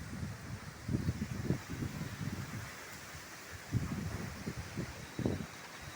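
Gusty wind from a dusty thunderstorm, a rough rushing roar that swells and eases in several surges against the microphone, fairly close and fairly loud, with no speech.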